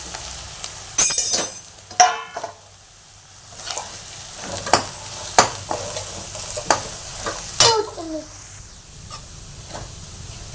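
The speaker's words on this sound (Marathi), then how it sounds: "रवा चांगला भाजून घेऊया।" Semolina roasted with onion and dal in a pan for upma, stirred with a spatula in irregular scraping strokes and clinks over a soft dry sizzle, close and fairly quiet.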